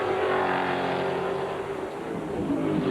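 NASCAR race cars roar into turn 7 at the California track, a dense, loud engine howl that holds steady and then eases slightly as the pack moves through the corner.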